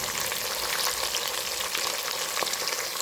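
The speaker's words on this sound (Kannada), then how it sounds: "ತುಪ್ಪದಲ್ಲಿ ಫ್ರೈ ಆಗುತ್ತೆ." Raisins frying in hot ghee give a steady, close sizzle that crackles evenly throughout, with no voices over it.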